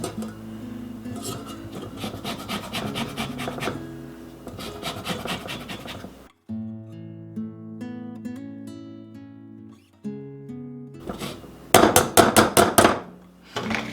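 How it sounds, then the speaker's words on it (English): An orange is zested with a hand zester in a home kitchen, giving repeated scraping rasps in bursts with short pauses, near and fairly loud. "First, I am going to zest it."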